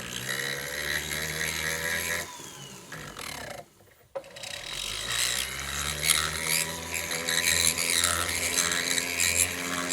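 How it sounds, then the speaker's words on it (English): Steady, fine scraping and cutting at close range as notches are lightly cut into the prongs of a silver ring, with a brief pause midway before the work resumes; no voices. "I'm going to lightly cut some notches in these"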